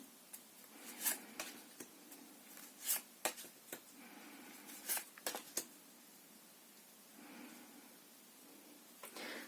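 Tarot cards being laid out face down, heard as soft, close slaps and brushes of cards on a surface, coming in irregular bursts against a quiet background.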